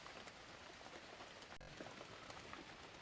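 Rain patters steadily onto surfaces in a jungle, a faint, even hiss of drops with no voices.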